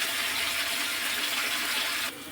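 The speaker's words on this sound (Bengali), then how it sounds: "মশলার যে জলটা ছিল সেটা দিয়ে দিলাম" Spice water poured from a container into a pan of potatoes frying with poppy seed paste, a steady close gushing hiss that runs for about two seconds and then drops off abruptly.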